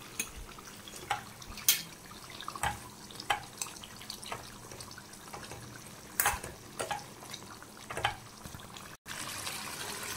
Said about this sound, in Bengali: ঝোলটা প্রায় ফুটে এসছে